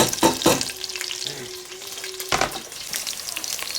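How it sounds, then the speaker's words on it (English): Bacon pieces sizzle and crackle as they fry in saved stone bacon grease for cream of potato soup, a steady close hiss with sharper pops and stirring bursts near the start and again midway. "now that we got the bacon all nice and cut up, we'll put it back in the grease, in the stone bacon grease. Let that cook a little"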